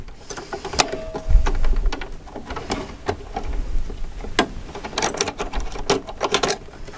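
A serger sews and trims a rolled hem on heirloom fabric, giving rapid mechanical stitching bursts with sharp clicks and pauses between runs, close-up and with no talk.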